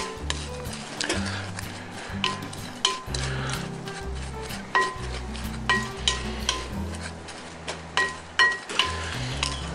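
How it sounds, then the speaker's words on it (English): Berries, lime zest and crispy bacon bits are tossed together in a bowl, with quick stirring and a run of light clinks of utensil on dish, close and steady. "Now I'm gonna just toss that all together real quick."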